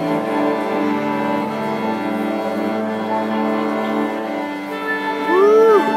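Orchestra pit musicians tune their instruments together, sustained overlapping held tones and a rising string slide near the end, a steady loud wash of pitched sound with a faint crowd behind it.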